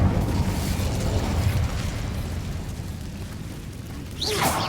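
A rushing fire spell blast roars through a Hogwarts Legacy game scene, a dense low rumble holding steady for several seconds before a brighter crackling burst flares near the end.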